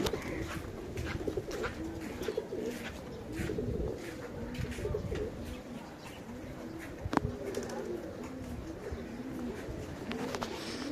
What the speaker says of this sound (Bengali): এইখানেও কিছু কবুতর আছে